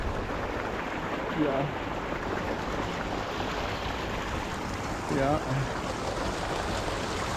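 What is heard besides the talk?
water rushing beneath the trail at Bagna Marsh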